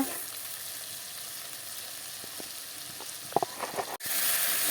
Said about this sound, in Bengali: মশলাটাকে ভালো করে কষিয়ে নিই